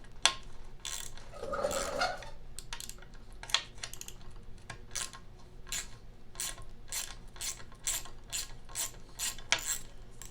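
A ratchet works on the bolts and nuts of a Snapper RER rear-engine rider's differential, giving repeated sharp clicking bursts at close range in an otherwise quiet workshop setting.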